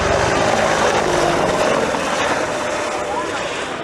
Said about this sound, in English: an AH-64 Apache attack helicopter